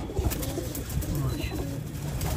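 Pigeons coo softly on a rooftop loft, low murmuring calls repeating over a steady background hiss, with a voice talking now and then.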